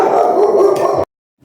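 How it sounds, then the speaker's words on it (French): Several dogs bark and howl together at a magpie, a loud, dense, close burst of yelping that cuts off abruptly into silence. "c'était mes chiens qui se sont un peu fâchés après une pie"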